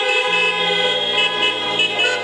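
Car horns honk together at the close of an outdoor church service held in freezing weather, a loud, sustained chorus of overlapping tones lasting the whole moment with no talking.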